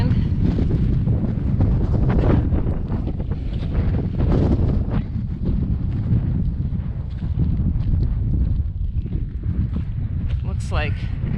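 Steady, loud wind roars and buffets a microphone on an exposed mountain hiking trail, a constant rushing blast that lasts throughout with no breaks.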